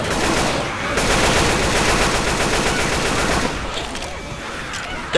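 Sustained automatic gunfire from a Left 4 Dead 2 versus match, a dense, rapid, continuous rattle of shots that runs loud for several seconds before easing slightly toward the end.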